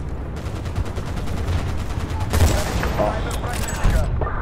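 Sniper rifle fire in Battlefield: Bad Company 2 comes as loud cracks amid a dense battlefield din of repeated gunfire, with a man's brief exclamation over it.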